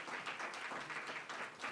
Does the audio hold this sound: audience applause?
yes